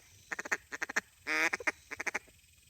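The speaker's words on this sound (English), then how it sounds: "Plus it kind of imitates just a little bit of a quack into that" Duck call blown in cutdown style: several quick bursts of quacks, then one long sustained raspy note, then another run of rapid quacking chatter, close and loud with no talking.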